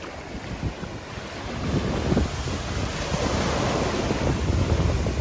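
Ocean surf rolling in at a beach near Santa Monica Pier in Los Angeles, with strong waves washing continuously up close and a steady wind rumble over the microphone, growing louder after the first couple of seconds.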